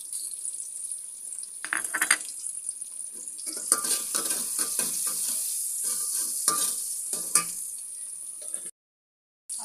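Rice is dry-roasted in a pan with salt and black pepper for matar pulao, giving a soft continuous sizzle broken by scraping stirs, with no talking.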